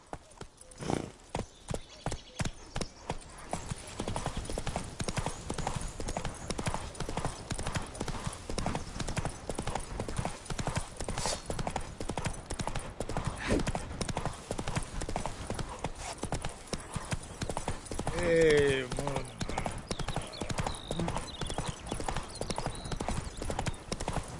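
Roach, Geralt's horse in The Witcher 3: Wild Hunt, galloping hard with dense, rapid hoofbeats held up close and loud for a long stretch, a brief whinny partway through, and game ambience beneath.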